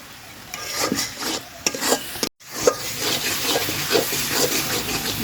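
Masala for a village-style katla fish kalia being stirred and fried in a pan: repeated scraping spoon strokes over a steady sizzle, with a brief dropout midway before the stirring resumes, close and fairly loud.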